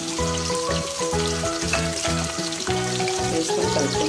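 Sliced onions and green chilies frying in oil in a pan for an Indian breakfast tiffin, a loud continuous crackling sizzle close up with no talk, mixed with faint tonal background music.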